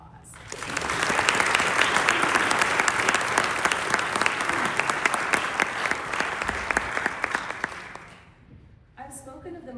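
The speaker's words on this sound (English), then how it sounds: "Please give all of these individuals a round of applause." Sustained audience applause fills a hall at a nursing students' pinning ceremony, a dense wash of many hands clapping that rises quickly, holds steady for several seconds, then cuts off sharply near the end.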